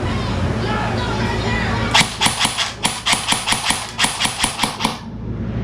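A CYMA SR16 airsoft rifle fires on semi-auto, about a dozen sharp, close snaps in quick irregular succession over a low background hum.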